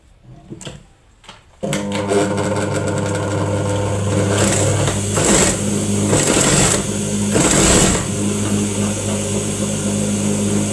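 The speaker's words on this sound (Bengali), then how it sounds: "আমি এখান থেকে মাঝখান থেকে আমি হিজাবটিকে সেলাই করব" Electric sewing machine stitching a hijab, starting after a short pause and then running steadily and loudly as a continuous mechanical hum, with several brief surges in speed. No voices are heard.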